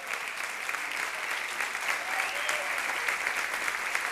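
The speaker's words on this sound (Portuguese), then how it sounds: "Você pode aplaudir ao Senhor" Congregation applauding during a Pentecostal-style church celebration service, a steady, dense wash of clapping from many hands filling the hall throughout, with no pause.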